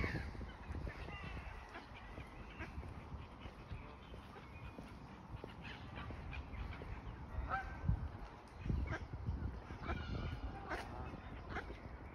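Ducks and geese honking and calling around a pond in Queens Park, Bolton, scattered squawks near and far over steady outdoor park ambience with faint distant voices.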